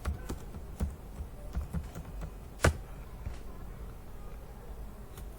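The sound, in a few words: typing on a computer keyboard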